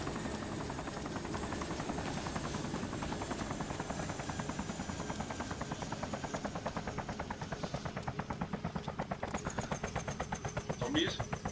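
Steady, loud helicopter rotor chop in the DayZ video game, a continuous rhythmic thudding with engine whine that runs throughout, while people talk over it.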